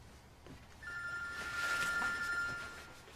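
A telephone rings faintly in the background, a short electronic trill rising over a quiet room tone.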